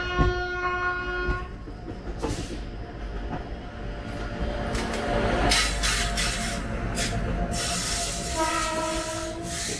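A Vande Bharat Express train runs close by with a loud, continuous rumble and clatter on the rails, and its horn sounds several times in long tonal blasts.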